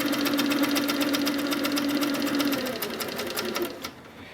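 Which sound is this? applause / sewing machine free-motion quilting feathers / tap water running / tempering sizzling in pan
sewing machine free-motion quilting feathers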